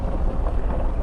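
A 2008 Chevrolet Suburban with a newly installed engine on its first test drive, heard as a steady low interior rumble of engine and road noise with some wind buffeting, no talk.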